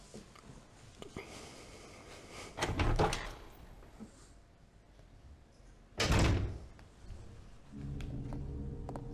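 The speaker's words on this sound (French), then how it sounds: "Porte verrouillée depuis l'autre côté." A locked door rattles in Resident Evil 0 as it is tried and fails to open, two heavy clunking thumps separated by quieter in-game ambience and footsteps.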